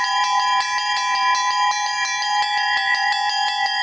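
Russian church bells struck in a steady repeating pattern, two bells sounding together on each beat, bright ringing tones with long sustained overtones, loud and close, no voices.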